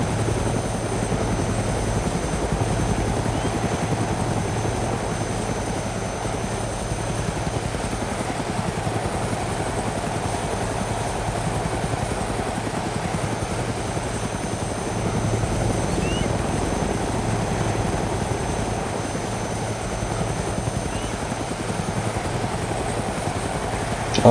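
A helicopter flying in the video game DayZ, a steady thumping rotor drone with a constant engine hum, loud and unbroken for the whole stretch with no voices.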